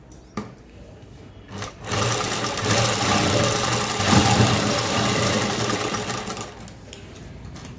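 Sewing machine stitching tucks in fabric, a fast, even mechanical rattle that starts after a few soft clicks, runs loud and steady for several seconds, then slows and stops, with no voices.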